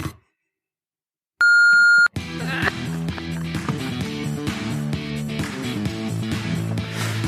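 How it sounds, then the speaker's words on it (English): A single steady electronic voicemail beep sounds after a moment of silence, followed by a continuous busy stretch of music. "Please leave a message after the beep"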